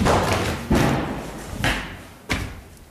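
Mortar shells strike around the Church of Our Lady of Peace in Hamidiyah, old Homs, during wartime bombardment: a series of heavy, booming thuds, about four impacts spaced irregularly, each ringing out with a rumbling decay.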